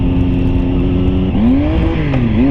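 A motorcycle fitted with a malfunctioning Annitori quickshifter accelerates loudly and close. The engine note rises and drops unevenly as it shifts through the gears.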